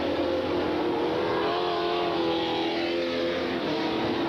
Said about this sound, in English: They get those cars straightened around, and it continues to be a Pete Tingu show